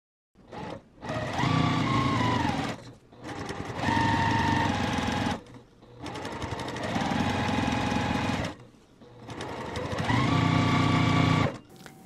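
Domestic sewing machine stitching beginner quilt blocks, running in four long, steady bursts of rapid whirring with short pauses between runs.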